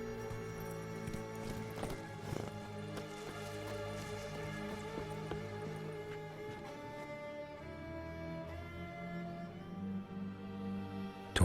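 A horse gallops in The Witcher 3 on Switch, its hooves beating in a quick, steady rhythm over a bed of layered music that carries on throughout.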